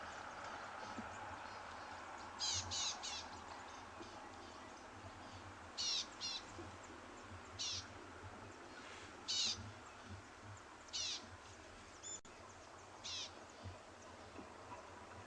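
Birds calling around a sunrise safari at Tswalu, with repeated bright chirping bursts scattered over a quiet, steady outdoor background, some near and some farther off, and no talking.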